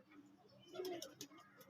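Soft cooing from a fancy pigeon perched up high at a bird keeper's place, a few low murmuring coos with faint chirpy clicks, quiet and close, a voice speaking lightly in the background.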